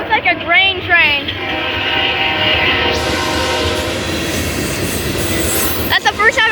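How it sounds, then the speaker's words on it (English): A four-locomotive grain freight train rolls past close by with a steady heavy rumble and clatter, its horn sounding at the start and again near the end, while a person talks over the passing train. "There's a 4-engine. I think that's the first time I've ever seen a 4-engine train, and it looks like a grain train."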